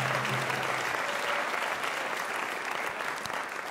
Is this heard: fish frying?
no